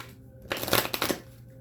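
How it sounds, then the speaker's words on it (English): Tarot cards being shuffled by hand, a burst of riffling and flicking lasting about a second, close and fairly loud, with quiet room tone before and after and no talking. "I'm going to shuffle these again."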